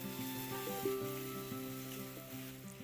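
Sugar and a little water for raw mango jam are stirred in a pan over a wood-fired stove, giving a soft, continuous sizzle with light scraping strokes close by.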